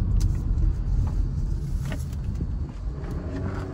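A car engine with a WINDBOOSTER throttle tuner set to race mode rumbles steadily and loudly from inside the vehicle, a low continuous drone with no speech over it.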